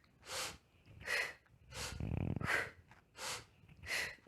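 Slow, deliberate yoga breathing, six even breaths alternating between audible inhales and airy exhales, close and quiet, with no talking.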